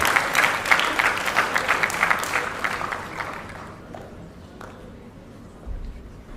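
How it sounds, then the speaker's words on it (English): An audience at a speech event applauds loudly at first, then the clapping thins out and fades to a few scattered claps. "please give a big round of applause."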